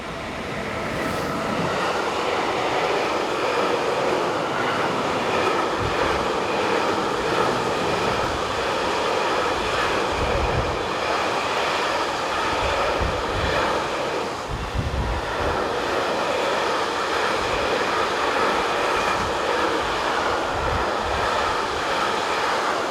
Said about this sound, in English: The train is the 41343 from Bremerhaven to Melnik.